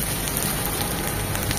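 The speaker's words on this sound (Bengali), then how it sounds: "এটাকে 1 মিনিট ভেজে নেব।" Ginger and garlic paste frying in a pan for a singi fish curry, a dense, even crackling sizzle heard close and steady for a brief moment with no voices.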